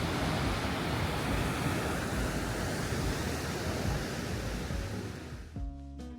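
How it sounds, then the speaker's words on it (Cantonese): Steady rushing water from Mamquam Falls, a small waterfall in Squamish, British Columbia: a dense broadband roar that fades a little toward the end, where a brief tonal sound cuts in. "呢度有條小啲嘅瀑布，跟住就慢慢流出去"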